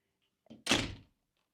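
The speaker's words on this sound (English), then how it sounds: "So let me just close this door." A hotel room door is swung shut, a short creak or shuffle followed by a single solid thunk that rings briefly and fades. Close, with no one talking.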